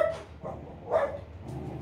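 A dog gives several short barks and yips while playing with a cat indoors, sounding as a few separate bursts spaced a beat apart, fairly close and moderately loud.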